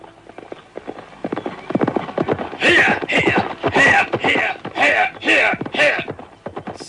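A horse arrives with a rider on horseback, hooves clip-clopping in a steady walking rhythm that grows louder and closer, the beats sharp and distinct toward the end.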